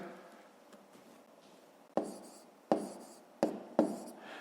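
A pen writes numbers on paper during a long multiplication exercise: faint scratching at first, then four sharp, distinct strokes tapping down close by, with no voices.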